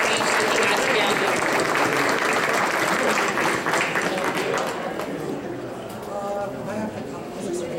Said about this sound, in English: let's do a round of applause for Dr. Morgan